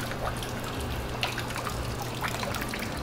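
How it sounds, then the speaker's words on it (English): A small waterfall fountain at Disney Springs, Orlando, trickles and splashes continuously, a steady close watery babble with a low hum beneath and no talking. "little waterfall"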